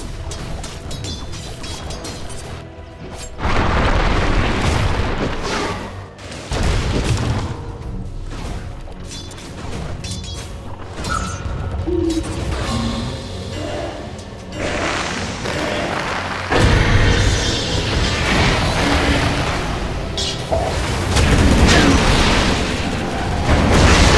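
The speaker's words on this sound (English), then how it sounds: "Dire's middle tower is under attack." Battle explosions in the video game Dota 2 as the Dire middle tower comes under attack: repeated booms and thumps over a busy, continuous mix of game sound.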